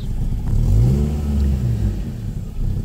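A 1998 Ford Escort ZX2 engine with a rough, low idle revs up steadily under the throttle, holding a loud, close, low rumbling note that dips slightly toward the end, with no talk.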